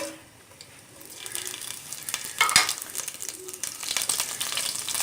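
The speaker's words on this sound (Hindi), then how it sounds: "ये जो हमारा गरम मसाला था हम ये डालेंगे" Whole garam masala hits hot oil in a pot, a soft crackling sizzle that builds and grows louder over a few seconds, with one sharper pop midway and no talk.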